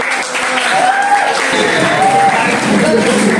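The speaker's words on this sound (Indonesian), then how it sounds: "Oke, tepuk tangan buat" Classroom of students applauding in a dense, steady wash of clapping that fills the whole stretch, with a few voices calling out over it.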